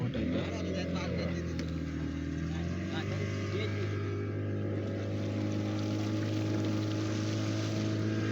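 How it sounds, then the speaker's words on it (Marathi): A speedboat engine drones steadily and close by, a continuous low motor hum that holds through the whole stretch. "स्पीड बोट आहे।"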